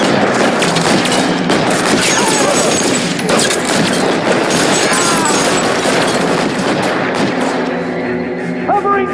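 Shootout gunfire in L.A. Noire: a heavy, continuous barrage of overlapping shots and booms, loud and close throughout, with voices shouting over the racket.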